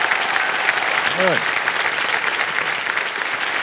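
Studio audience on a television quiz show breaks into steady, full applause for the contestants, a continuous crowd clatter with a short spoken exclamation near the middle.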